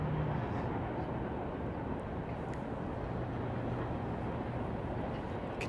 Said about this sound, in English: You can hear a train rolling through next door.